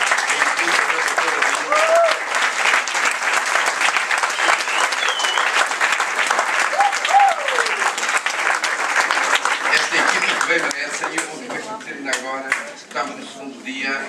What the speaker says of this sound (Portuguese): vou pedir-vos até uma grande salva de palmas para todos